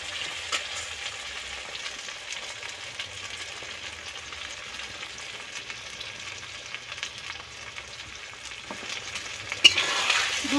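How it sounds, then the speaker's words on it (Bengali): Mutton frying in oil for a curry while being stirred, a close, continuous sizzle with repeated scraping strokes of the spatula and a louder crackle near the end, no voices. "দু 4 মিনিট নেড়ে চেড়ে ভালো করে ভাজতে থাকবো"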